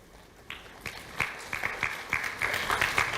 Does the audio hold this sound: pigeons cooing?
no